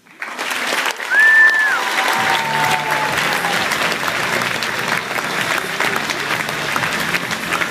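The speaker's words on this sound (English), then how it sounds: "Let's give Taylor Green one more round of applause for a job well done" An audience breaks into sustained applause after a prepared public speaking competition speech at a Kansas FFA event. The clapping rises quickly, stays loud and dense, and continues without fading.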